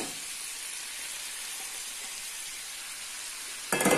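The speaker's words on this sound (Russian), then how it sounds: "Когда крылышки немножко обжарились с одной стороны, я выкладываю сюда подливу," Chicken wings fry in a pan as gravy goes in, giving a steady close sizzle and hiss that suddenly swells louder and crackly near the end.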